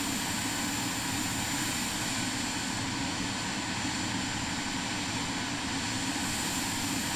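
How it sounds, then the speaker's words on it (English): Steady, continuous jet engine roar of a Cirrus Vision Jet G2 in Microsoft Flight Simulator, a loud broadband drone holding level with no talk. "I'm assuming that's the jet engine right there."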